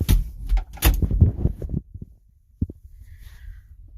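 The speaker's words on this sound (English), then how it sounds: "One second, I gotta close my door." A room door is handled and shut with a cluster of close rattling knocks and thuds, then a lone latch click as it closes into near quiet.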